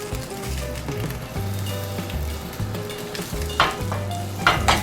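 Rainbow trout frying in quickly burnt butter in a small pan, a steady loud sizzle with crackles and bursts of spatter, while a low background hum pulses underneath.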